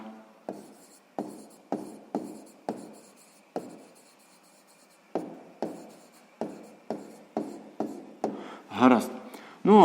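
Pen or pencil writing numbers on paper for a sixth-grade maths exercise, a steady run of short close scratching strokes at an even pace, ending with a louder rustle of paper.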